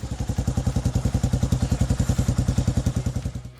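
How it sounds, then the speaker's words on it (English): A Kawasaki KLR650 liquid-cooled single-cylinder motorcycle engine idles with an even, thumping chug, each firing pulse clearly separated in a steady, close-up rhythm. "KLR652 liquid-cooled single."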